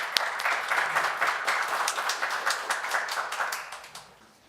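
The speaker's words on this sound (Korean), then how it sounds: "큰 박수로 모시겠습니다." An audience at a youth media education policy forum held in the National Assembly applauds to welcome a speaker, with dense, steady clapping from many hands that fades away toward the end.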